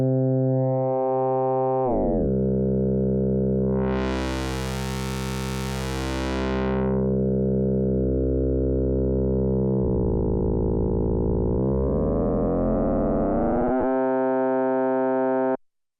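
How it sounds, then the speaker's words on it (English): Arturia MiniFreak synthesizer FM oscillator tones with feedback, sustained buzzy harmonic drones that shift in timbre, with a bright sweeping swell in the middle and a rougher, gritty tone near the end before cutting off abruptly. "Above that point, it adds a stable feedback, allowing you to create strong saw-like waves."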